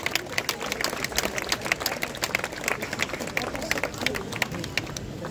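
An audience applauding at a costume parade in Vichy, a fairly faint, steady patter of clapping from a crowd with some background murmur.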